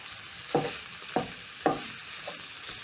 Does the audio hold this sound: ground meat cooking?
yes